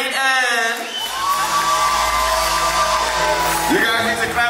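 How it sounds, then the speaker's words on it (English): A crowd at a family reunion whoops, cheers and shouts loudly and continuously, with voices rising over one another and a sustained hum underneath. "You guys need to clap a little louder for her"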